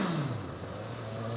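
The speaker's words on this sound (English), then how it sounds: "Stock exhaust." A 2017 Suzuki GSX-S1000 motorcycle on its stock exhaust revs, the engine note sweeping downward as the throttle drops off, then settling into a steady idle hum, close and alone.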